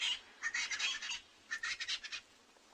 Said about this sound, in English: We can hear the crested francolin calling. We can hear Natal spurfowls in the back.